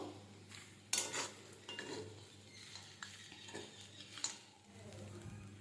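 Vegetable poha being stirred and mixed in a pan, with repeated scraping and clinking of a utensil against the metal and a faint sizzle underneath, close and moderately quiet, no talking.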